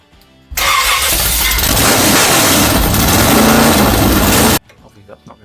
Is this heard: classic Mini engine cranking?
yes